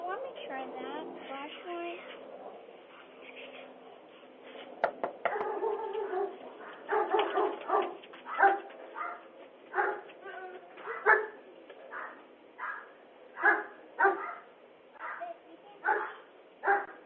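A dog picked up by a doorbell camera barks again and again in steady, separate bursts. The sound is thin and narrow-band, and a voice speaks over the first seconds before the barking takes over.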